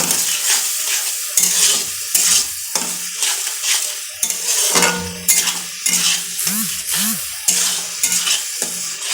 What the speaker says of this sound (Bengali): পরিমাণ মতন লঙ্কার গুঁড়ো দিয়ে দিলাম, দিয়ে ভালো করে কষিয়ে নিলাম।